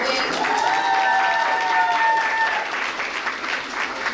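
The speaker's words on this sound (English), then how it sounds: "one more big round of applause for our coaches and all of our volunteers" An audience at a secondary school geography bee applauding participants, coaches and volunteers, a dense sustained round of clapping with a brief whistle or tone near the start, tapering slightly toward the end.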